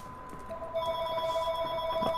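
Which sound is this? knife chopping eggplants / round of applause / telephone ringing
telephone ringing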